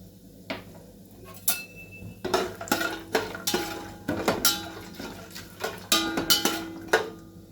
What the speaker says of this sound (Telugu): ఇవి కొంచెం ఫ్రై అయిన తర్వాత నేను జీడిపప్పు వేస్తున్నాను